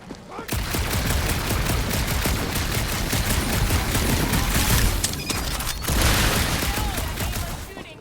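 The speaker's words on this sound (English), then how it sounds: "Shooting isn't gonna scare the monsters away, right?" Sustained automatic gunfire from Guardians of the Galaxy rattles loud and dense without letup, dipping briefly for a moment before the barrage resumes.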